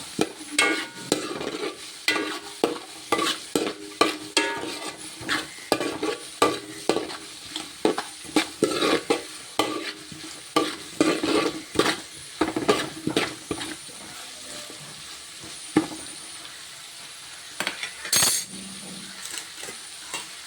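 Two kilos of beef with half a kilo of onions sizzle in a pan as a metal spoon stirs and scrapes it in repeated rhythmic clanks, close and clear with no talking.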